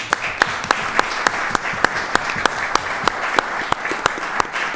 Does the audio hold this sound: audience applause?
yes